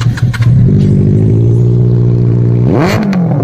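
Sub-600cc superbike engine idling with a steady throaty note, then blipped into a sharp rising rev near the end, loud and close with no talk.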